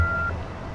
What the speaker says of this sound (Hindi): अगर आप वॉइस मैसेज छोड़ना चाहते हैं तो बीप के बाद अपना मैसेज रिकॉर्ड